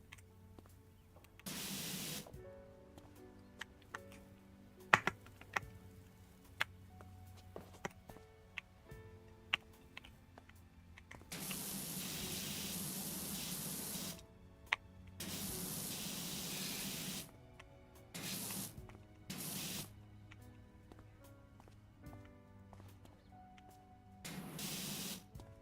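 Pressure washer spraying through a short nozzle in a power-washing video game, several hissing bursts of varying length, some long and sustained, separated by quiet stretches with faint ticks and clicks.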